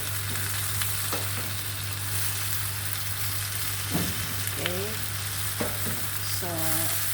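Kangkong sizzles loudly in a pan as soy sauce goes in for adobong kangkong. The frying hiss is steady, with a few scraping stir strokes and no voices.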